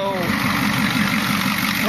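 An old 6.9 liter non-turbo diesel engine idles with a steady, even rumble and clatter that holds at constant volume throughout, close to the listener.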